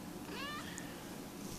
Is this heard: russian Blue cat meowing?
yes